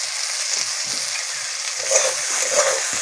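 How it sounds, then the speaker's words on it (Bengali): Washed, squeezed soybeans with salt and turmeric fry in a wok with a constant hissing sizzle. The frying swells slightly near the end of the short stretch. "ভালো করে ভেজে নেব সয়াবিনগুলোকে"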